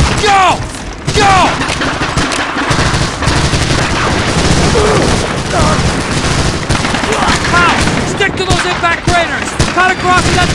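Dense, loud gunfire from a Medal of Honor: Allied Assault battle scene, with sustained machine-gun bursts and rifle shots layered over booming explosions, while soldiers' shouted voices cut through the continuous wartime din.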